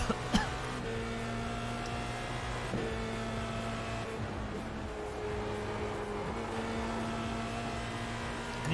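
A race car engine in the iRacing simulator hums in steady tones that shift pitch with gear changes, moderately quiet, with faint speech at times.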